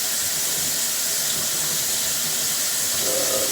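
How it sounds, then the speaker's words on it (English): Warm tap water runs steadily into a shaker cup to rinse rice, a continuous close hissing rush that fills the whole moment with no talking. "And just going to get a bit of warm water."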